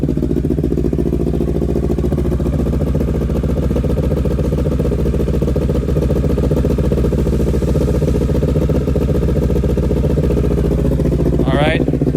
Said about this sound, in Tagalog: Alright, so that's the idle.